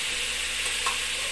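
Lapu-Lapu fish frying in hot cooking oil, a steady, close sizzle and crackle that fills the whole moment with no voices.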